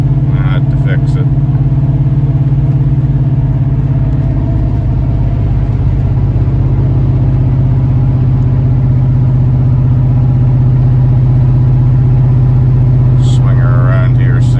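An 8.1 Vortec V8 with a custom exhaust that has a slight leak rumbles loud and close in a steady, deep drone with minor throttle changes, and a brief voice is heard near the end.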